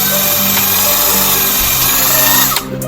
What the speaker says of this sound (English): It's a good drill.